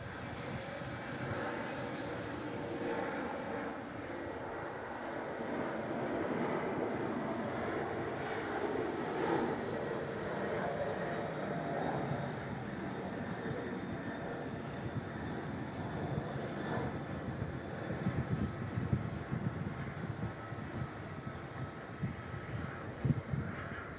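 A large jet airliner at Melbourne Airport gives off a steady, broad engine roar that swells slightly toward the end, with some wind buffeting the microphone.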